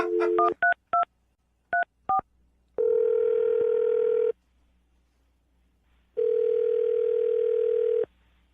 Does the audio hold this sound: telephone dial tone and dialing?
yes